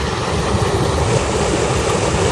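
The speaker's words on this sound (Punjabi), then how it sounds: "ਇੱਥੇ ਥੋੜਾ ਪਾਣੀ ਚਲਾਇਆ, ਇਹ ਪਾਣੀ ਚੱਲ ਗਿਆ" Irrigation water pouring into a beetroot field on a farm, a steady dense rushing wash with low rumble and no voices, constant throughout.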